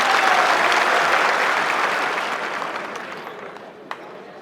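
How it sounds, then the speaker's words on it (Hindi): A crowd at a political gathering about e-rickshaw registration claps loudly and steadily, the applause slowly fading toward the end with a few last scattered claps. "तो बजा दो ताली इस बात में।"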